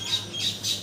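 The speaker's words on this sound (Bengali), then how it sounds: "জিরিয়া ব্লাডের নর পায়রা।" A male pigeon of Jiria blood squawks three times in quick, evenly spaced calls, close and fairly loud, with no talking.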